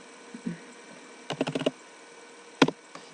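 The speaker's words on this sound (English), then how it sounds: "Then push enter on the keyboard." Keys pressed on a computer keyboard while entering a spreadsheet formula: a single soft tap, then a quick burst of about five clicks, then a sharper lone keystroke and one faint tap, close up over a quiet room hum.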